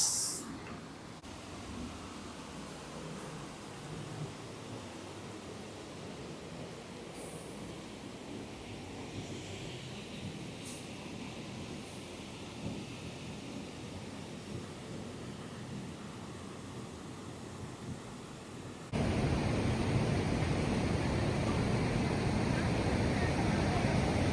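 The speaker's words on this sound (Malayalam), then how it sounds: "വെള്ളം ചാടുന്ന സൗണ്ടൊക്കെ കേട്ടേക്ക് ആസ്വദിക്കാം" Water rushes at Thommankuthu Waterfalls in a steady, broadband hiss, distant at first, then suddenly much louder and closer near the end.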